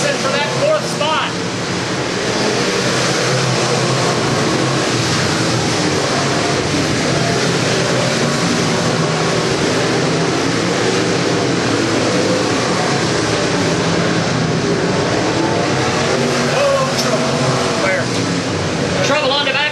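Stock cars battle two-by-two for fourth place on the Springfield, Missouri oval, a dense, steady roar of many engines filling the whole stretch under continuous race commentary.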